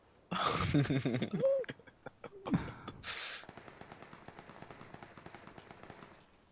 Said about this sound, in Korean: 어, 쏜다 쏜다 쏜다.